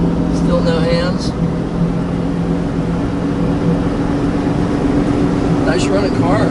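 A 1966 Ford Fairlane cruises down the road with its engine humming steadily beneath heavy road and wind noise, a loud continuous interior drone while someone talks over it.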